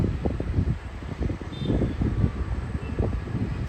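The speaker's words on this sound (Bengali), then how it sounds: "এত সুন্দর একটা ঠান্ডা হাওয়া আসছে" Cool night wind blowing across a Mumbai balcony, with traffic somewhere below: a steady, rumbling, buffeting rush against the microphone that swells in uneven gusts and never lets up, with no voices.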